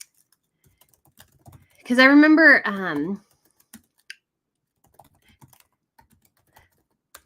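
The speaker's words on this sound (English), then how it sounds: "I'm typing and trying to think at the same time" Keys on a computer keyboard click sparsely and faintly, scattered across the stretch, while a person speaks briefly near the middle.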